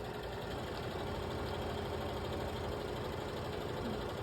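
A sewing machine runs steadily while stitching a flying geese quilt seam, giving a continuous, even motor hum with no pauses and no talk.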